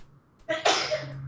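A single sharp human sneeze bursts out loud and close during a Pokémon card game discussion, with a brief quiet before and after.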